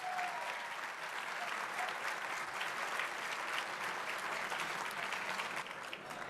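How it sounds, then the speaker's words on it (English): Sustained applause from an audience at a county forum event, steady and dense throughout without a break, fairly loud and even in level. "So let's give them a round of applause."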